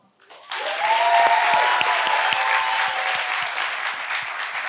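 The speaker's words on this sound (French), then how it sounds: "Je vais entendre vraiment un tonnerre d'applaudissements pour elle." Audience applause at a live café talk show event, a dense sustained burst of clapping that rises quickly and carries loud and steady to the end, with a faint voice briefly audible beneath it.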